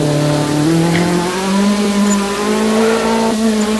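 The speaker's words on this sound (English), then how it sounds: "Pushing the car to its absolute limits" Group B rally car engine racing hard in a Roblox game set at a Poland rally stage, loud and close, with a sustained howl that steps up through the gears as it accelerates.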